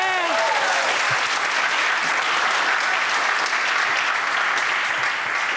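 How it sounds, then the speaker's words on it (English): Loud, steady audience applause at a game jam final event in Funchal, Madeira, as a team's lead programmer is introduced, with a brief voice at the very start. "can you give him a round of applause"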